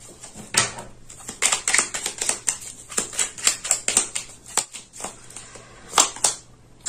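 Tarot cards are shuffled and drawn, with crisp flicking and riffling bursts up close, irregular slaps and snaps of card against card, loud and dry with no voice.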